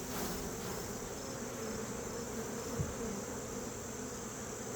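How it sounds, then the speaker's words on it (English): A dense, steady hum of many honeybees fills the air as they are shaken off brood frames at an open hive, close and continuous with no talking. "So I'll shake these bees to make it easier to get it in."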